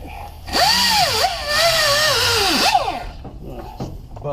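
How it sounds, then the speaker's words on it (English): A handheld power tool buffs burrs off a metal gear shaft during a fifth-wheel electric landing gear jack install, with a loud whirring whine that rises and falls in pitch as the motor loads and unloads, then winds down. "I'm going to buff all the burrs off so it'll slide off easier"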